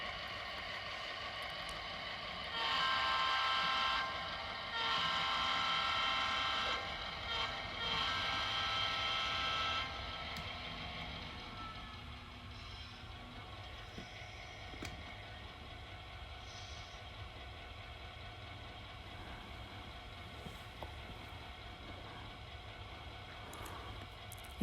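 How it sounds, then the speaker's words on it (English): Model railroad locomotive running down a siding: a faint, steady mechanical hum and rumble, with a louder stretch of motor whine early on that then drops to a quieter, continuous drone, no talking. "I wanted to try to show the locomotive going down the siding"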